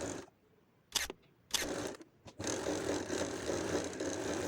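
A sewing machine top-stitching the fabric border of a circular shirt: a few short whirring bursts, then a steady, fairly close mechanical run with no talking.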